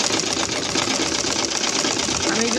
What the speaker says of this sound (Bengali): সেলাই করতেছি